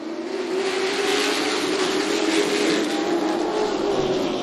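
Super Street race cars circling Hickory Motor Speedway through turns 3 and 4, a steady loud engine drone with a constant whir and no break across the whole stretch.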